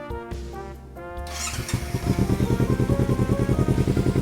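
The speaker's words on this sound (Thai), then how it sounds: "มาฟังเสียงท่อกันเลย" A Kawasaki Z300 ABS 2017 twin-cylinder motorcycle idles after an initial mechanical whir, settling into a steady, close, pulsing exhaust throb with an even rhythm.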